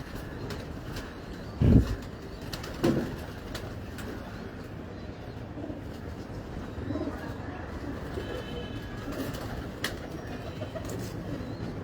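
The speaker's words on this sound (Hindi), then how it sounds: "ये फेवरेट कबूतर" Pet pigeons of the Hanuman Badshah type, kept in Pakistan, coo softly and intermittently at low level, with a couple of sharper thumps early on and light background noise.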